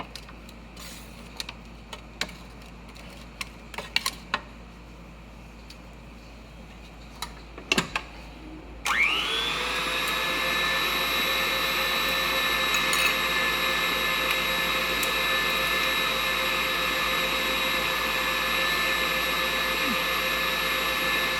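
After scattered clicks and light handling noises, an electric mixer starts up and whirs steadily and loudly, beating cream cheese and sugar for a classic cheesecake.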